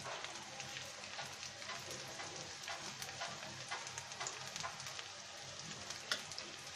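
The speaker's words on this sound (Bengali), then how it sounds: "পেঁয়াজটা আমরা ভেজে নিচ্ছি" Onions fry in a pan for Bengali Sing Maser Paturi with a steady, faint sizzle and crackle. The popping holds evenly throughout, with no voices.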